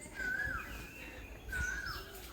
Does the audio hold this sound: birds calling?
yes